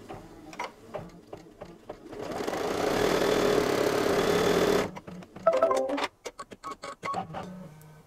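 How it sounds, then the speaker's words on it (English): An embroidery machine stitches an applique placement outline for a monogram. A steady, close, fast mechanical whir runs for about three seconds and is bracketed by scattered clicks and taps, with no talking. "Now it's time for the placement stitch for the applique fabric for the monogram"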